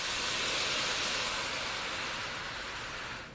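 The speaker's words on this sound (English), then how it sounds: "Now before that garlic browns, we're going to deglaze with some Pinot Grigio" A strong, steady steamy hiss of Pinot Grigio hitting a hot pan of shallots and garlic as it deglazes, loud and continuous before easing off slightly at the end, with no talking.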